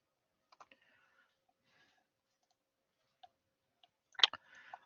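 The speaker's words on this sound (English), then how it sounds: "I will click, click, and click." A computer mouse clicks a few times, sparse and faint, with a small cluster of quicker clicks near the end in an otherwise quiet room.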